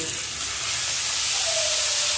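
Washed, chopped greens land in a pan of fried onion, dried chilli and garlic, setting off a loud, steady, close sizzle and hiss.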